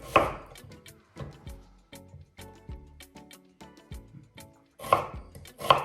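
A knife chops a small onion on a board in a home kitchen, with a series of close, crisp irregular taps and a couple of louder knocks toward the end.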